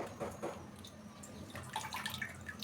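Water drips and splashes close by as freshly washed fenugreek leaves are squeezed by hand over a dish, in a few uneven bursts with no talking.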